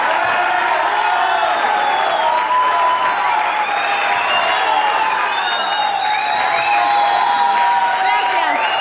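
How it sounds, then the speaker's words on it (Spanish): Loud, sustained applause and cheering from a studio audience at a disco dance show, with whoops and crowd noise filling the space steadily without a break. "este aplauso se lo quiero dedicar a mi mamá, a Gladys"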